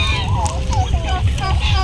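Four-month-old turkeys gobbling in a pen: a run of warbling, quavering calls from several birds close by, overlapping one another in quick bursts.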